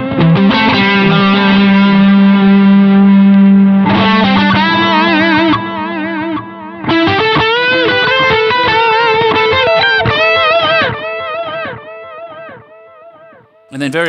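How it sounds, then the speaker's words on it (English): Electric guitar through a Fender Pugilist distortion and Mirror Image delay pedal plays chords and melodic runs, notes repeating in echoing trails as the gritty tone rings out loudly and steadily. "With some distortion."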